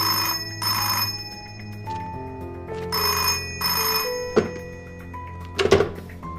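An old-fashioned telephone rings in repeated bursts of loud electric bell tones, with a few dull thunks and clatter near the end as the receiver is picked up.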